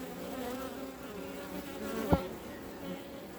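Honey bees from a newly divided swarm hum around the hive in a continuous, low, even buzz heard close by, with one brief knock partway through and no talking.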